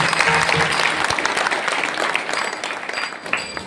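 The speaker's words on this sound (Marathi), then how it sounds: "या सर्वांकरता जोरदार टाळी वाजवा" An audience at a village devotional gathering in Sulewadi claps hard and steadily, a dense wash of applause with no break.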